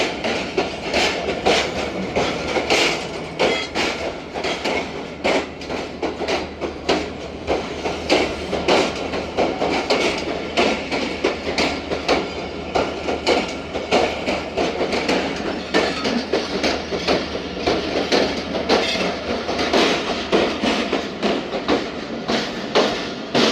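A Karachi Express train runs steadily on its rails, with a dense, continuous rumble and rapid clickety-clack of wheels over rail joints. It stays loud and close throughout, with no voices.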